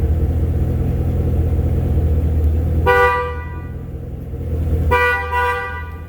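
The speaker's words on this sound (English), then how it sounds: "Once we do the last sensor, you're gonna get a double honk once it goes through." A 2013 Chevrolet Camaro with a 6.2L V8 gives a double honk from its horn after a tire pressure sensor relearn, two loud, close toots about two seconds apart over a low idling rumble.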